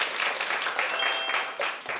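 Warm applause rises from an audience at a zero-waste clothing festival, a fairly loud, continuous patter of many hands with small swells, joined by a brief high whistle-like tone.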